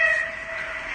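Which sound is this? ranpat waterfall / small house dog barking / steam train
steam train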